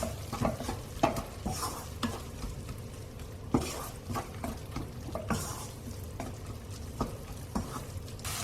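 A spoon stirs dry cumin, coriander and turmeric into pumpkin in a pan, giving soft scraping strokes and light knocks against the pan over a gentle sizzle, close and fairly quiet.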